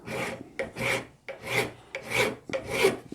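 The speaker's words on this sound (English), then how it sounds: "I'm just going to take a file and just work the back edge down a little bit." A hand file rasps across the back edge of a top nut on a Rickenbacker 620/12 twelve-string guitar build, five steady strokes in an even rhythm, close and clear with no talking.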